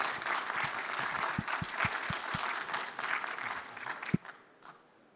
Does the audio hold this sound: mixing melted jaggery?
no